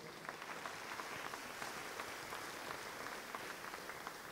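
Audience applause at a fashion designer competition show, a dense, steady wash of many hands clapping that holds evenly throughout at moderate loudness, with no voices standing out.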